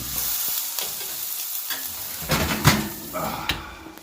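A steak hits a hot pan and sizzles loudly, with crackling bursts, spatters and a few clinks of utensils against the pan, steady and close.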